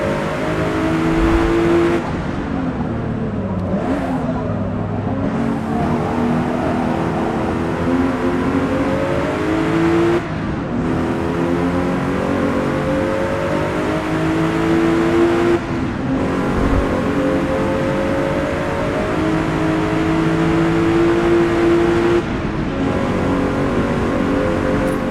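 Race car engine in the Forza Motorsport video game, loud and continuous, revving up through the gears with repeated shifts and brief lifts in throttle, no voices.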